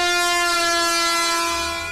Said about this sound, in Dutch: Met het geluid van deze toeter.